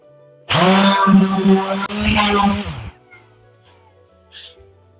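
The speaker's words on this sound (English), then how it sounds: "after 180 we're gonna do 240 and then hand sand it to 400" Power sander working a wood surface with 240-grit sandpaper, a steady whining hum that runs close and loud for about two and a half seconds, then cuts off, leaving faint scattered noises.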